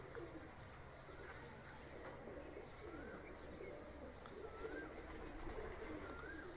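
Pigeons coo faintly at a rural farmstead, soft repeated burbling calls mixed with a few chirps over steady background noise, distant and quiet throughout.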